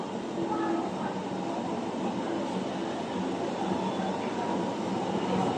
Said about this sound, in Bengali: আমাদের বাংলাদেশের মেট্রো রেল মতিঝিল থেকে উত্তরা